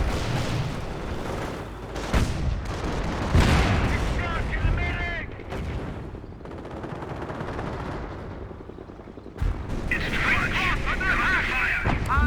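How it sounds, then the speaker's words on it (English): In the video game Company of Heroes, a grenade barrage goes off amid a 3v3 battle in the ruins of Neuville, with rapid bursts of gunfire and explosions layered over continuous commentary from a caster. "Crossholders get a nice grenade barrage off."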